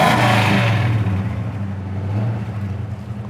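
A 1969 Mustang restomod with an SVT crate engine and dual exhaust revs close by, a loud deep rumble that swells at first, eases off, then settles into a steady idle.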